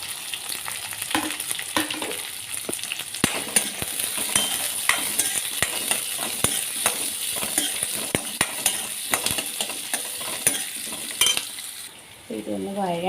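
Food sautés in a pan before being ground in a mixer, a loud continuous sizzle broken by sharp scrapes and clinks of stirring. A brief voice is heard right at the end.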